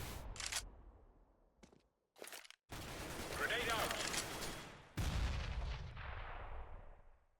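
Bursts of rapid gunfire and heavy blasts from a first-person shooter video game, loud and close, broken by short gaps, with reverberant booms trailing off.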